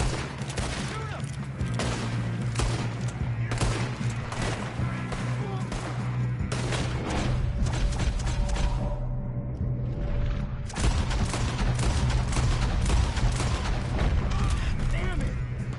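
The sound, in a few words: gunfire in the video game Red Dead Redemption 2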